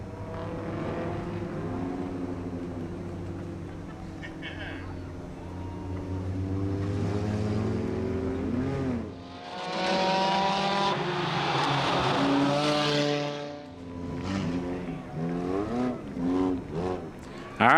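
The number 95 race car rolls through its cool-down lap at Irwindale Speedway, its engine rising and falling in loud revving sweeps, swelling as it passes close midway, with faint crowd or announcer noise beneath.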